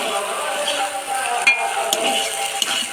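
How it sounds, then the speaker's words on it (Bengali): Dal being stirred with added spices in a hot pan, a steady close sizzle and frying hiss running throughout with a few soft scraping stir strokes and light clinks, no talk. "এবার দিয়ে দিব তরকার মশলা, দিয়ে নাড়াচাড়া করে নিব।"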